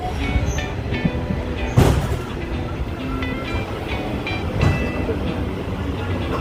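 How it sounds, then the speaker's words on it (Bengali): Train departing Siliguri Junction, a steady rumble of rolling carriages with faint rhythmic wheel clicks and a couple of louder knocks, heard from on board. "ট্রেন ছেড়ে গেল শিলিগুড়ি"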